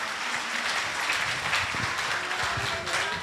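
An audience at a Hindu Bhagavat katha gathering applauds loudly. Many hands clap at once in a dense, continuous patter that lasts throughout.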